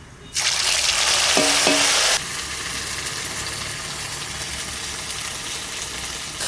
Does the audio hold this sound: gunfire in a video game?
no